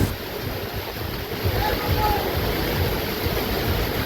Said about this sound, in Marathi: जोरांचा वारा सुटला आणि पाऊस बघू शकता जोरात आले बघा नुसता वारा सुटले